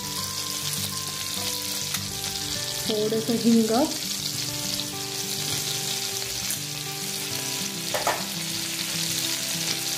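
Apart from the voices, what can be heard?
cumin and asafoetida sizzling in hot oil and butter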